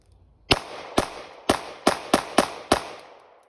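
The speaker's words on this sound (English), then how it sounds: "I'm just gonna shoot more, see how it goes." Seven sharp, loud gunshots ring out in quick succession from a BCA bufferless 9mm rifle firing steel-cased ammunition outdoors. Each crack is followed by a short echo.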